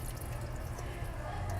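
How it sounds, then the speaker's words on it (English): Strawberries being rinsed in a sink of water, a steady soft wash of running and splashing water with faint drips, close and continuous throughout. "you want to make sure that you are getting, the berries covered with the water and rinsing them pretty well"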